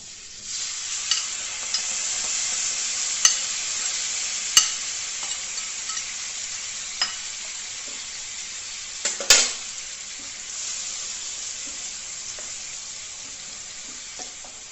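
Finely chopped apples frying in melted fat in a pan, a steady sizzle with occasional sharp clicks and scrapes as a spoon stirs them.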